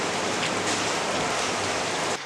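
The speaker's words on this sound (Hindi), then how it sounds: "अभी इतनी बारिश हो रही ना, इतनी बारिश हो रही है" Heavy rain pours down in a dense, steady hiss that stays unbroken and fairly close throughout, with no voices.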